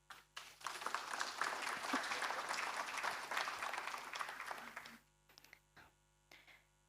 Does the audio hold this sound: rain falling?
no